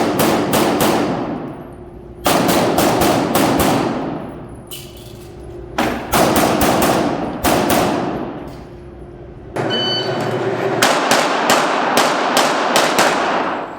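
Rapid pistol shots ring out in loud bursts during an indoor USPSA shooting match run. Each quick string of sharp cracks echoes off the range walls, and the strings are separated by brief pauses.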